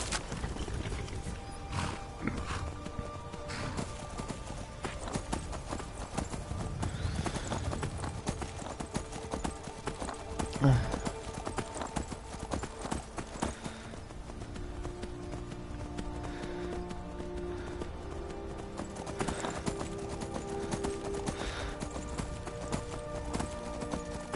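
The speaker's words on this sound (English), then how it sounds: "Okay, I don't own one of those horses, but apparently there's 2 of them." Horses in the Skyrim video game clip-clop steadily across ground, hooves thudding in a continuous rhythm over a game ambience for the full stretch, with an occasional louder hoof strike.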